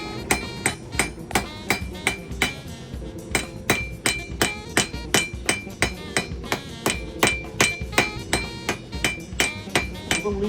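Steady, ringing hammer blows shape a small metal leaf in blacksmithing work, about two strikes per second, loud and close, each with a bright metallic ping and no talk.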